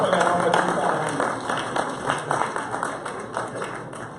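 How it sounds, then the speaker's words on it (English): At a corporate cocktail reception, an audience claps for an award recipient, producing a steady patter of moderate applause that slowly tapers, with speech faintly mixed in. "Round of applause for Lenore Batiste Hernandez."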